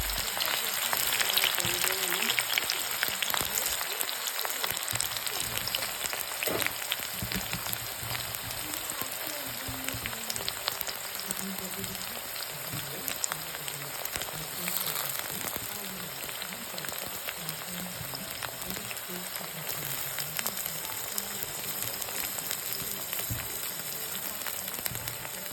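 Onions and tomatoes frying in a little oil in a home kitchen, a steady rain-like crackling sizzle running without pause, moderately close, with faint low background sounds.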